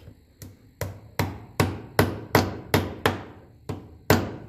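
A hammer strikes a screwdriver driven into a slot on a 1954 Ferguson 20 TEF diesel tractor part, about a dozen sharp metallic blows in a steady rhythm, close and ringing.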